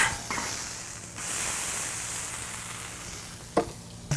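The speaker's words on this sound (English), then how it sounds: "we're going to transfer this patty to the flat top. All right, give this a flip" Burger patty sizzling on a flat top griddle, a steady broadband hiss with a couple of sharp spatula clanks and scrapes near the end, no talking.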